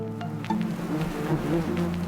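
A steady insect buzz hums continuously for a couple of seconds, close and fairly constant, with small wavering swells and no voices.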